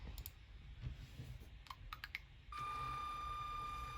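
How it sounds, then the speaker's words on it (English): A few light keyboard clicks come in a quick cluster while a value is entered to program a Spike Prime robot, faint and close, followed by a steady electronic tone that starts partway through and holds to the end. "we just type in a negative value"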